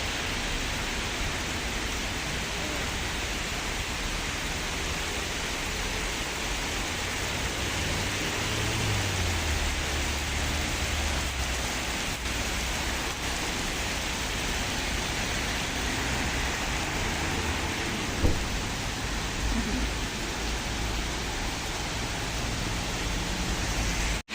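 Steady broadband hiss of rain, even and unbroken, with a faint low engine hum underneath and an occasional soft knock.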